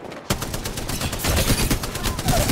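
Rapid bursts of automatic gunfire crackle almost continuously through an Apex Legends firefight, loud and close, with a player's voice faintly mixed in beneath the shots.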